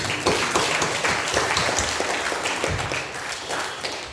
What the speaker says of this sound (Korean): 하나님께 감사의 영광의 박수를 올리겠습니다